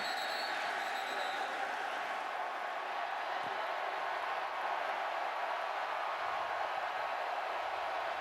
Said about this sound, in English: This is a loud crowd